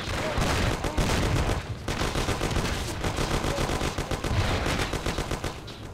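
A shootout in the video game Mafia: The City of Lost Heaven, with loud, continuous machine-gun and rifle fire in rapid overlapping bursts throughout.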